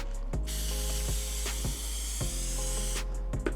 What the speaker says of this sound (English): So you spray both surfaces and you just let them dry a little bit to a tacky.